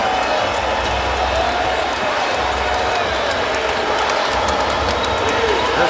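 A basketball arena crowd roars loudly and steadily after a Stojakovic three-pointer in a 2008 NBA playoff Game 7 between the Spurs and Hornets, a dense unbroken wall of cheering with voices mixed in.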